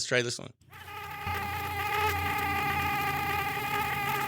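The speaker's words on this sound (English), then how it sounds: "Is that a mosquito? That is a mosquito." A high, thin mosquito whine hums continuously after a brief burst at the start, steady and close.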